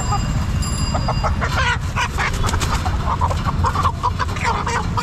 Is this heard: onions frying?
no